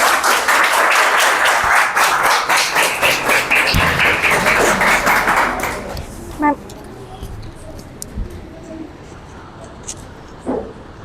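An audience claps loudly after a children's singing competition performance, with steady dense applause for about six seconds that then fades to scattered claps and faint background noise.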